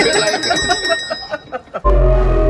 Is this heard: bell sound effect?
yes